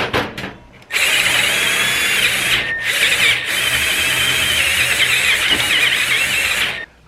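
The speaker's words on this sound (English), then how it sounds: "I have to drill that hole out to 1/2 inch" A power drill bores out a hole to half an inch in a Honda/Acura fuel pump sending unit, giving a loud, steady whining grind with a short start-stop at the beginning and brief pauses midway.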